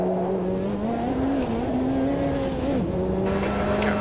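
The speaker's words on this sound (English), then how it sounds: "And the F40's turbo lag is very evident against that Porsche." A Ferrari F40's turbocharged engine drones loudly and steadily while racing against a Porsche in the AMS2 racing game, its pitch wavering and briefly dipping as it shifts, with faint tire noise and no talking.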